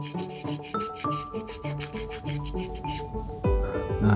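A dry cloth rubs briskly over a circuit board during cleaning, making quick repeated scrubbing strokes with a rough, rasping texture, close and steady throughout.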